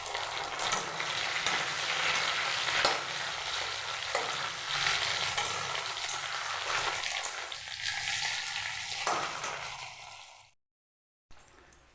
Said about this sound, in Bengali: এখন আমি টমেটোটা দিয়ে দিব।